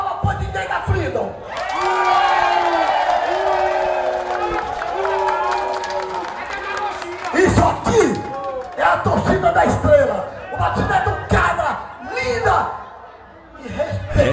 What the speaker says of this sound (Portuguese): Uma salva de palmas pode ter da Freedom